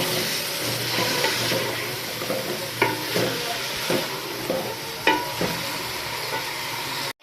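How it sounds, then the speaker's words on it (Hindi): Mutton with onions and garlic fries in a karahi, giving a constant close sizzle while a utensil scrapes and stirs, knocking now and then against the pan, with no talk. "गोश्त को अच्छे से प्याज के साथ हम लोगों ने फ्राई करना है कि इसका कलर चेंज हो जाए।"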